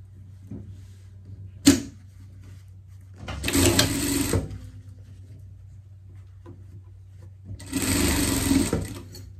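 A sewing machine stitches fabric for a pet summer outfit with shorts, running in two sustained bursts of a few seconds each, close and fairly loud, with a sharp click between and quiet handling noises around them.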